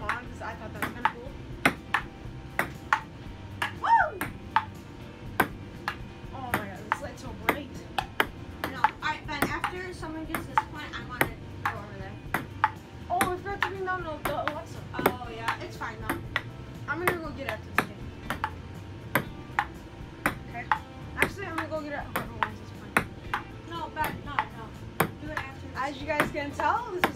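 Ping pong ball struck by paddles and bouncing on a table during a casual home match, sharp repeated clicks at an irregular rally rhythm, close and fairly loud, with background noise throughout.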